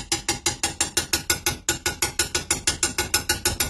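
A 30 mm socket is struck repeatedly to drive a new fork oil seal into a Dax/Monkey motorcycle fork tube, giving a steady series of about twenty sharp metallic hammer taps, close and loud, with no talk.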